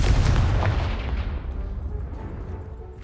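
A loud blast from the Confringo fire spell in Hogwarts Legacy bursts against a piled-up barricade, with a heavy booming onset that rolls off into a rumbling decay over a few seconds.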